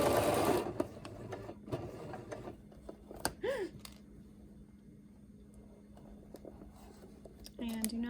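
A sewing machine stitches a fabric surgical mask in short, close bursts of rapid mechanical chatter separated by pauses. A voice talks over parts of it.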